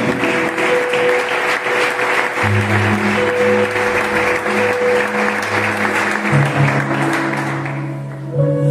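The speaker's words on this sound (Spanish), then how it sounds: "Dale un fuerte aplauso al Señor." A church congregation breaks into loud, sustained applause for the Lord, a dense continuous wash of clapping with an organ or keyboard chord holding underneath and swelling near the end.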